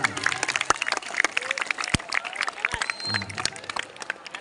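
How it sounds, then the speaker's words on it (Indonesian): A small gathering of about thirty people at a religious talk claps for their teachers, with scattered, uneven hand claps and sharp individual smacks alongside chatter and a few raised voices. "Tepuk tangan buat guru-guru kita."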